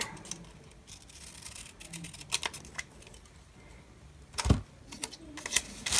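Scissors snip through a paper planner page in a few crisp, quiet cuts scattered over several seconds, with soft handling rustle between them and no talking.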